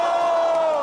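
Crowd at a rap battle roaring and cheering, loud and continuous, a sustained shout with applause blended in.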